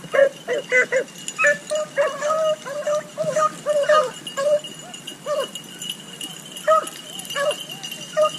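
Beagle hunting dogs bark and whimper in repeated short bursts during a hunt out in the field, several voices overlapping at middling distance, with people talking between the yelps.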